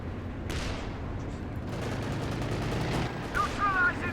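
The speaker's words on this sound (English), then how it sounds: "Panthers pushing his way forward, even throwing his main gun into the mix" A Panther tank's main gun fires in the World War II strategy game Company of Heroes 2, a sharp blast rising out of steady battlefield rumble and scattered gunfire, followed by more shots and a later burst near the end.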